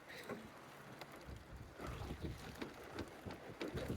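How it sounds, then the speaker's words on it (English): Wind blows in gusts over a remote Alaskan cabin site, a faint, low buffeting rumble that swells and fades in uneven pulses, with no talking. "Oh boy, it's windy."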